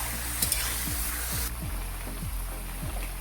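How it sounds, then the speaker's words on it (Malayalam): Chicken pieces sizzle steadily in a hot pan over a high gas flame while being stirred for a dry chicken curry, with a spoon scraping in a regular rhythm about every half second under the constant frying hiss. "നല്ലപോലെ ഒന്ന് ഇളക്കി കൊടുക്കുക ഗ്യാസ് എല്ലാം നല്ലപോലെ കൂട്ടി കൊടുത്ത് ഇളക്കി കൊടുക്കുക"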